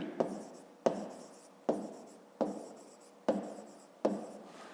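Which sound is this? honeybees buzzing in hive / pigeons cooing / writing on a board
writing on a board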